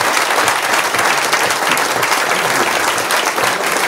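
A live podcast audience in London, gathered for a rugby show, breaks into loud, sustained applause, a thick continuous roar of many clapping hands with faint cheering mixed in.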